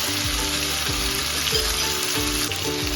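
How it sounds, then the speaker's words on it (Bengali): Mutton frying at high heat in a pan for Kolkata biryani, giving a loud steady sizzle throughout with rhythmic scraping stirs about every half second, with no talking. "এবার এর মধ্যে মাটনটা দিয়ে কষিয়ে নেব।"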